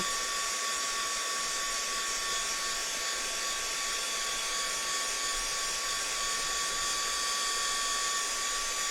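A hair dryer blows continuously at high power to dry mixed media mould pieces, a loud, steady, close whirring roar with a constant whine and no pauses.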